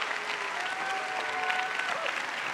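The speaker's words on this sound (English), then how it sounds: "Not only do they clap, but you got some people that cheered as well." A live audience claps and cheers together at a talk event, a dense steady wash of hand claps with a few whoops and shouts mixed in, loud and continuous from start to finish with no speaking voice over it.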